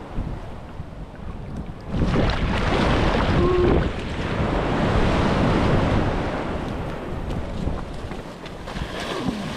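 Big ocean waves surge around a small boat at sea towing floating logs, a continuous loud rush of water with heavy wind buffeting the microphone, swelling louder for a few seconds midway.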